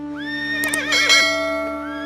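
A horse gives one loud, close whinny that rises, wavers and trails off over about a second, heard alone with no talk.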